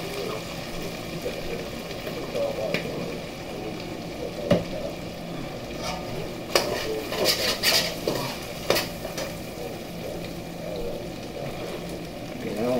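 Mixed vegetables and garlic are stir-fried for pork fried rice, with a steady close sizzle broken by sharp metallic scrapes and clacks of a utensil against the pan, several clustered in the middle.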